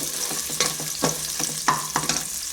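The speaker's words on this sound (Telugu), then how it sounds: "అలాగే కారానికి కొంచెం ఎండుమిర్చి" Dried red chillies sizzling in hot tempering oil with ginger pieces for pulihora pulusu, a steady fry hiss broken by several sharp stirring scrapes and taps, close and alone.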